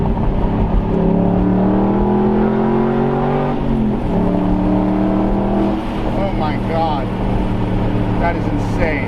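Loud, close revving from a straight-piped Aston Martin engine, pitch climbing and dropping through repeated throttle sweeps, with a raspy exhaust roar and brief crackles, no talk over it.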